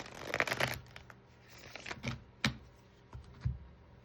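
Soft riffling and flicking of oracle cards being shuffled, quiet and close, with a few sharper taps and slaps between pauses.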